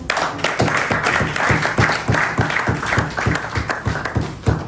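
A crowd at a national party directorate meeting and anniversary commemoration claps in a steady, rhythmic unison beat, several claps per second, loud and close throughout.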